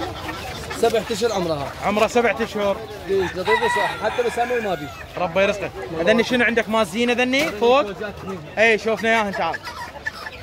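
Chickens and a rooster cluck and crow among caged fowl at a busy Baghdad bird market, the calls repeated throughout and mixed with close conversation between buyers and sellers.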